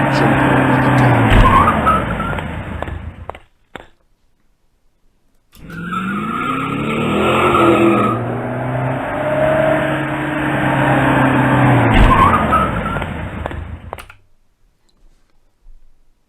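Cartoon car skidding effect from a switch-access activity game: two long, loud bursts of engine roar and tire squeal separated by a brief silence.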